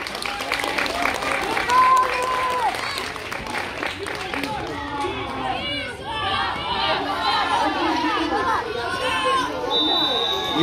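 Spectators at an American football league game in Ukraine clap and cheer in a continuous crowd roar, with chatter and an announcer talking over the noise throughout.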